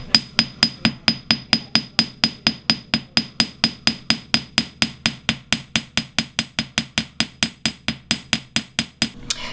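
A hammer pounds silver wire into a necklace hook with steady, evenly spaced metallic taps, about four per second, close and crisp, with no talking.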